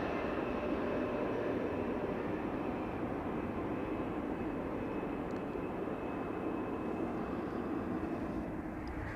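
A Delta Airlines airliner arriving from Salt Lake City at Amsterdam Schiphol Airport gives a loud, steady, broadband jet roar that stays constant and close throughout.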